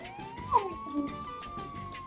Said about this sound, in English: it just played like a cop siren, and there was like a honking noise, and there was like a crash